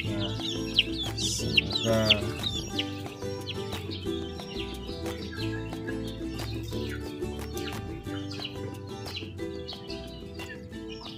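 Several free-range village chickens cluck and squawk in a backyard coop over a steady background hum, with a burst of louder calls early on and a brief spoken word.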